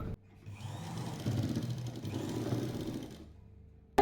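A sewing machine stitches a kurti sleeve seam, a moderate whirring run of a few seconds that swells and fades before stopping, with no talk.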